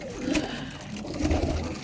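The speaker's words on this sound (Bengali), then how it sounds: "এই কবুতরটি আজকে আমার বাসায় নামছে" A pigeon coos softly in a couple of low, throaty bursts over steady background hum, close by.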